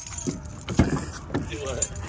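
Keys jangle in short bursts, close and brief, while people talk over them.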